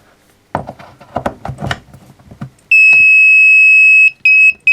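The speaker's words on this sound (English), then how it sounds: "when I'm doing things that aren't high voltage, I don't want that buzzer going all the time" A high-voltage ballast control unit's safety buzzer sounds a loud, piercing steady tone for over a second, then stops and gives short bursts, following a series of wooden knocks and clunks.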